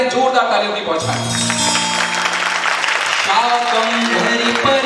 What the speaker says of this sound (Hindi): इस शाकंभरी परिवार के लिए जोरदार तालियों की पहुंचाएं